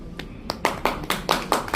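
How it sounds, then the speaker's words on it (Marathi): Scattered clapping breaks out in the audience at a college diamond jubilee celebration, a handful of distinct, uneven hand claps close by that build briefly with no talk over them. "त्यांनी टाळ्या वाजवलेल्या आहेत"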